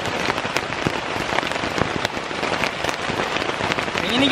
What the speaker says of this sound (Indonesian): hujannya tambah deras cuy